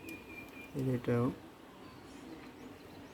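A pair of Bombay giribaz pigeons coos in two quick, close, throaty bursts, with a person speaking briefly nearby.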